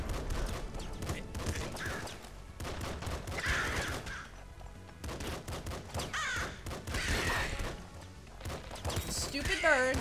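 Birds caw amid the chaotic action of the video game Nuclear Throne, layered over rapid gunfire bursts and busy game effects that fill the whole stretch at moderate loudness.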